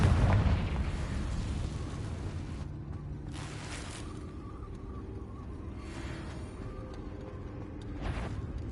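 A fiery Confringo spell blast in the Hogwarts Legacy game, a dense rumbling burst that starts loud and decays into a sustained low roar with further crackling bursts, no voices.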